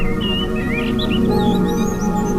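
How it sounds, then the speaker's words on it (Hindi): Animated bird chirping as it flies off into the open sky, several quick high tweets and warbling calls laid over a steady, full music bed. "वो चिड़िया उड़ चली खुले आकाश में"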